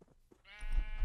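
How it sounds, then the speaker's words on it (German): Sheep in the Minecraft video game give a single wavering bleat, close and fairly loud, after a few quieter soft sounds. "Schafe."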